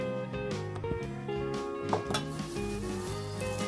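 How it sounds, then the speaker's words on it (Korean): Walnuts and peanuts are stirred into hot, bubbling sugar syrup for a black-soybean candy, giving a soft, close sizzle with scraping and light clinking of a spoon against the pan, over faint background music. "준비해 놓은 호두와 땅콩을 넣어 섞어주고"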